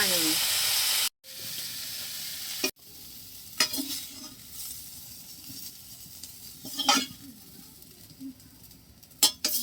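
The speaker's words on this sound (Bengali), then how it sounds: "লবণ ভেজে নিতেছি ফুলকপি ভাজি হয়ে গেছে" Cauliflower frying with salt and turmeric in a pan, giving a steady close sizzle with occasional stirring scrapes and brief sharp clinks.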